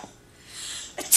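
A single short sneeze from a scene in the 1994 horror film Leprechaun 2, a brief breathy burst with a soft intake before it, heard alone at moderate volume.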